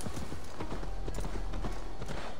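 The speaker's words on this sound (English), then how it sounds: "I brought back my horse." Steady clip-clop of horse hooves at a brisk, even trot in the video game Assassin's Creed Valhalla, close and continuous, with a low rumble underneath.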